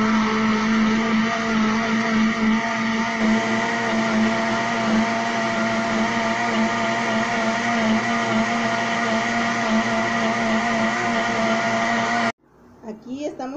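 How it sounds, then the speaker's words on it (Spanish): A kitchen blender whirs loudly and steadily, blending peaches with a little of their syrup, running for about twelve seconds before cutting off abruptly. "Ahorita vamos a licuar."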